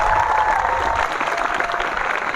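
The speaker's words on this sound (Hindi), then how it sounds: "जोरदार तालियां" Loud applause from a crowd at a student Chandrayaan-3 launching model demonstration, steady dense clapping throughout, with a voice speaking over it at the start.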